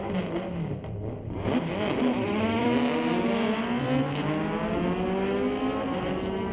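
A drag racing car with a 1250cc engine revs and accelerates at a raceway, its engine note climbing steadily in pitch over several seconds, loud and continuous without speech.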